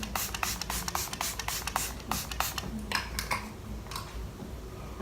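A rapid series of short misting bursts of makeup setting spray onto a face, close by, coming in quick uneven pumps with brief pauses between them.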